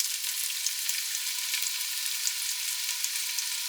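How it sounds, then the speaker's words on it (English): Carrot pieces sizzle in hot oil, a steady bright crackling hiss with small pops scattered throughout, close and continuous with no talking. "we're going to add the carrots to the oil."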